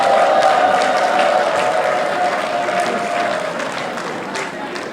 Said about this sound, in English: I think the house deserves a round of applause.